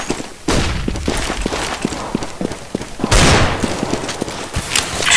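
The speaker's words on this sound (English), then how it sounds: "Deploying flashbang." Grenade blasts and gunfire in a tactical shooter match, with repeated sharp thuds and a loud burst of noise near the middle over a busy, dense game soundscape.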